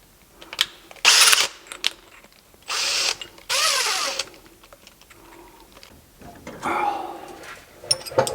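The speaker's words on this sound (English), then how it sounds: "I have already marked holes here and here, and I'm just going to drill those." A power drill whirs in several short bursts, spinning up and stopping while drilling bolt holes in a bracket on a GMC motorhome, with clicks and handling noises between runs.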